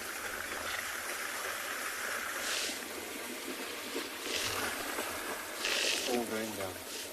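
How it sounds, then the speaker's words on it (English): Buffalo wade through water on a sunrise safari, with splashing and sloshing washing in a few louder surges over a steady background of running water. People talk throughout. "I'm sure you can hear the water here behind us as the buffalo have come into the water."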